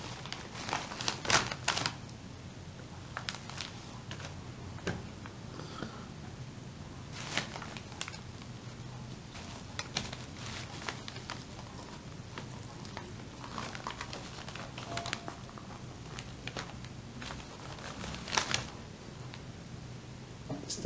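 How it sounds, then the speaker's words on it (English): A knife slices through smoked mackerel in close-up, quiet eating-sound style: a steady run of soft, crisp taps and crackles, with a few sharper bursts near the start and again midway, and no talking. "So I'm gonna cut the mackerel."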